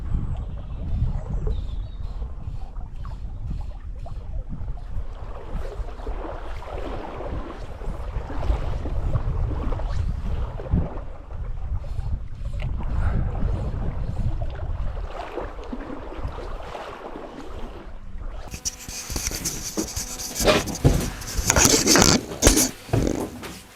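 A sudden gust of wind sweeps across a river on an evening of mayfly fishing. It makes a continuous rough roar and rumble at close range, growing harsher and louder toward the end, with no speech.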